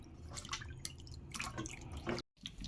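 Cut mushroom pieces are swished and rinsed in water, making faint, close sloshing and dripping with small splashes and a brief drop to silence near the end.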